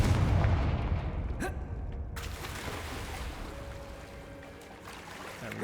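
A Confringo blasting spell erupts in Hogwarts Legacy, a sharp crack followed by a broad rumbling blast that slowly fades, with no talking over it.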